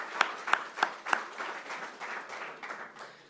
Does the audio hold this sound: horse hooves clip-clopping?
no